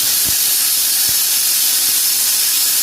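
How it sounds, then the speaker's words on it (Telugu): A pressure cooker on the stove vents steam in a loud, sustained whistling hiss while eggplant curry cooks, with a few faint low knocks underneath. "2వ విజిల్ కూడా వచ్చిందండి."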